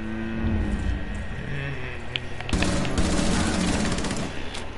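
Sustained automatic gunfire in a video game, loud and continuous, growing denser midway with rapid rattling shots over ambient game noise.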